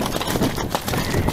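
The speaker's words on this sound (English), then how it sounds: "Nice mare, good jump." A mare's hooves clip-clop on the ground during a bloodhound hunt ride, quick close thudding footfalls over a short stretch with no talk.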